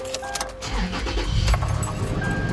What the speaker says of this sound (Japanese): ちょっとエンジンをかけて